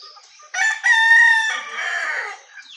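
A wild junglefowl (labuyo) rooster, tied up after capture, gives one loud, close crow with a long drawn-out harmonic call that trails off, heard alone without talk.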